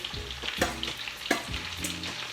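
Wild mushrooms stir-fried with glossy onions for a curry, with a continuous sizzle and a few sharp scraping stirs of the pan, and no voices.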